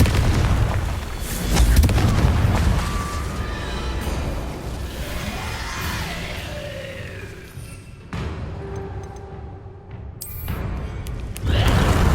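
Fiery Confringo spell blasts in Hogwarts Legacy, deep booming explosions with rumbling tails mixed with whooshing magic effects and game sounds, loud and close, with a fresh burst at the end.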